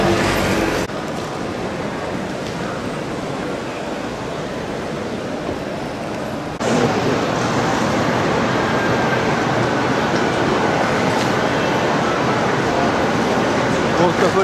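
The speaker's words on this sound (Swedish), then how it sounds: "Nu ska vi åka tåg igen." Steady broadband rumble and rushing noise of a moving train, continuous and fairly loud, swelling slightly partway through.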